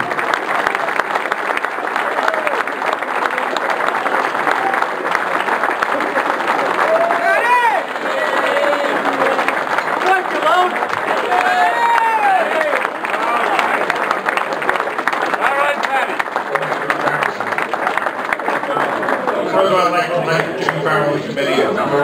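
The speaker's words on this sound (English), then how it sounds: "How about a nice round of applause?" Audience applause fills a retirement party as a retired deputy chief is honored, broad sustained clapping with some cheering and chuckles mixed in, steady and close throughout with voices murmuring underneath.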